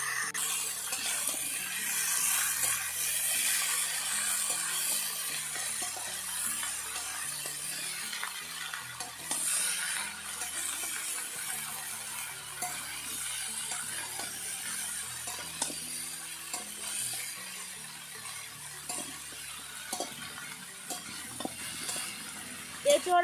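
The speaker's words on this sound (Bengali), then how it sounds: "এঁচড় দেওয়ার পর আবারও খুব ভালোভাবে মিশিয়ে নিচ্ছি।" Jackfruit and potato stirred in a frying pan, with a continuous hiss of sizzling oil overlaid by soft, irregular scraping strokes of the spoon and an occasional clink near the end.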